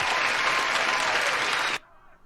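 A crowd at a UFC mixed martial arts event cheers and applauds loudly in a dense, sustained roar that cuts off sharply near the end, leaving quiet room sound.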